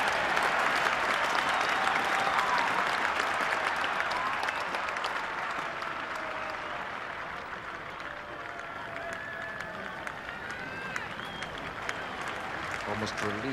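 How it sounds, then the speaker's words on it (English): Steady applause from spectators at a 1988 England v West Indies cricket Test match, a broad, continuous wash of clapping across the ground that holds at an even level throughout, with faint crowd murmur and calls mixed in. "Almost relief as much as applause by the spectators for England's 50 up, 3 wickets down."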